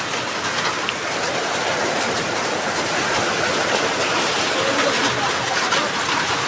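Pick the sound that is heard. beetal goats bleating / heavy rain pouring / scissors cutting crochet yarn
heavy rain pouring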